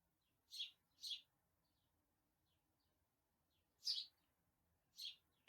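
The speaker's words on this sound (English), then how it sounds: "There's a bird sitting on my windowsill." A small bird sitting on a windowsill chirps in short, high, bright bursts, two close together, then two more after a pause, with a quiet room behind.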